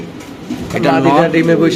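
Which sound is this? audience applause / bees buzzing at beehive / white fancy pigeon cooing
white fancy pigeon cooing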